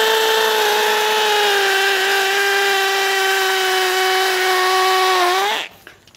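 A NIETZ 16V brushless cordless impact drill runs with a steady, loud high-pitched whine for several seconds, the pitch dipping slightly before it abruptly stops.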